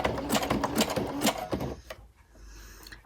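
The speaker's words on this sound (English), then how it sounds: "I just turn the corner and just overlap my stitches by a few stitches." Sewing machine stitching through a handmade journal at a corner, a fast close rhythmic whirring clatter that stops after about two seconds, leaving a quiet hum.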